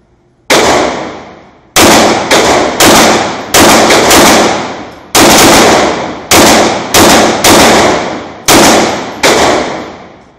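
Smith & Wesson M&P 9mm compact pistol fired outdoors, ten loud, sharp gunshots spaced irregularly, some in quick pairs, each cracking close and then decaying briefly.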